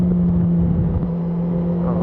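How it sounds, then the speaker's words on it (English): Exhaust of a 2018 Honda CB1000R motorcycle while riding: a steady, bassy engine drone with a low constant hum and wind rush, close and continuous with no talk. "I actually quite like the bassy feel of the exhaust note."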